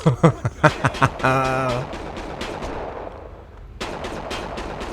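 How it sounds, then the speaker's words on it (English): Gunfire in the PS2 video game 25 to Life: a quick burst of loud close shots, a ringing tone, then a fading rumble, with another rapid volley at the end. "Oh no, somebody's shooting at me"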